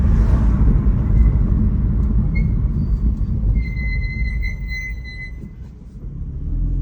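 New track brake pads on a BMW F80 M3 give a loud, continuous low rumble like a passing train, with a thin high squeal rising briefly midway, heard up close with no talking.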